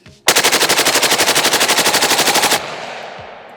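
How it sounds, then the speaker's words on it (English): Nylaug AUG-pattern rifle fired full-auto through a 40-round magazine: one loud, close, unbroken burst of rapid evenly spaced shots lasting over two seconds, then an abrupt stop and a short fading echo. "we got to go full mag dump with the 40 rounder"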